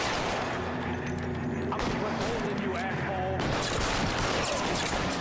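Dense, continuous gunfire from a shootout in the video game LA Noire, with bursts of shots and explosive booms filling the whole stretch and game dialogue mixed underneath.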